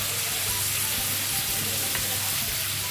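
Shrimp stir-frying in a hot pan gives a loud, continuous, close-up sizzle with faint stirring movement throughout.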